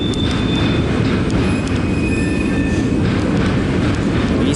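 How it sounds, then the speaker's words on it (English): A loaded eastbound CP potash freight train passes close and loud, a continuous heavy rumble of rolling cars with faint wheel squeals and light rhythmic clatter, no voices. "Eastbound loaded potash train, CP620."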